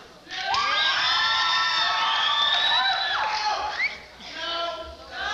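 A school audience at the 1987 Washington High School Faculty Follies cheers, whoops and shouts loudly for a candidate, a sustained roar of excited voices that dips briefly near the end before swelling again.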